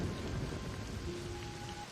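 Steady rain pours with a low rumble of thunder underneath during a TV episode, a dense continuous hiss without any voices over it.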